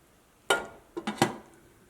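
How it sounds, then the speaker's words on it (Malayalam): A mixer grinder jar is taken out in a kitchen: one sharp hard clack, then three quick knocks close together, near and clear against a quiet room with no speech. "ഇനി മിക്സിയുടെ ഒരു ജാർ എടുക്കുക."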